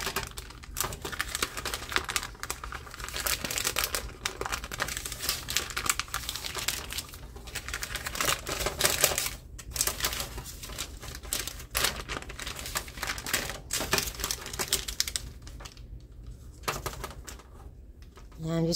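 Plastic packaging wrapper being peeled back from a frozen block of butter in a home kitchen, a steady close crinkling and tearing rustle that runs in bursts with brief pauses throughout.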